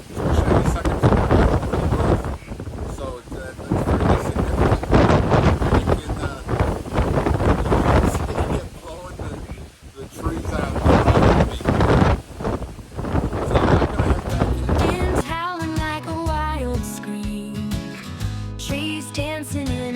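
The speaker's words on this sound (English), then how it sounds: "We can hear the wind inside the house." Powerful Hurricane Milton wind in Central Florida roars and buffets the microphone almost continuously, with gusting surges and a voice faintly audible beneath.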